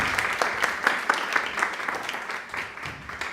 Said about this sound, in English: So another round of applause for her, what she put together in a day.